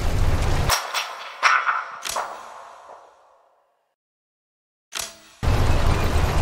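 Several heavy booming artillery shots in quick succession in the video game Sudden Strike 4, Dunkirk battle, each with a rolling echo fading into silence, then another blast amid loud battle noise.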